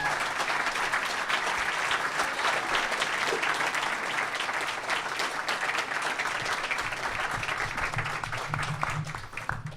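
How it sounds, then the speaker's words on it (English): An audience at a live debate on Islam and Christianity gives its speakers a long, steady round of applause, dense even clapping filling the room for about ten seconds with no pause. "give a huge final round of applause for our speakers."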